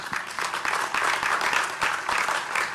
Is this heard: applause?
yes